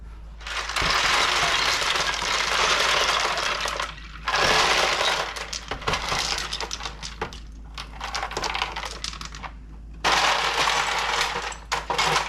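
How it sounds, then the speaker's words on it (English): Ice cubes clatter and clink as they are poured into a bowl for an ice bath to chill blanched green beans, with three long bursts of rattling separated by brief quieter gaps, close and fairly loud. "Okay, put the lid back on and we'll prepare the ice bath."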